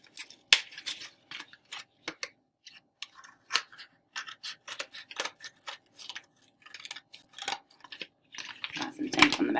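Scissors snipping tape on the back of a small woven piece, a series of sharp irregular clicks and snips separated by short pauses, close and fairly quiet.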